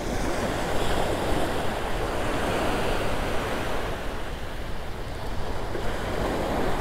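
Ocean surf rolls in steadily with wind buffeting the microphone at a beach where someone is fishing with shrimp and crab bait, a continuous broadband wash with no talk.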